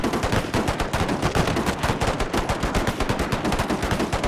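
Continuous rifle volleys crackle in an Anglo-Zulu War battle game, dense overlapping shots firing in rapid rhythm with no pause, loud and close.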